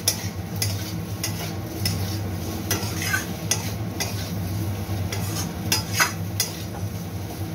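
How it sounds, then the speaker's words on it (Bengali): Potatoes stir-fried with spices in a pan, a utensil scraping and stirring in repeated strokes over a soft sizzle, close and steady, with no talking. "খালি আমি মশলাটা দিয়ে কষে নিই।"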